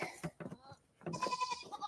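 Goats bleating in quick, overlapping cries at close range, mixed with people talking nearby during an outdoor shoot.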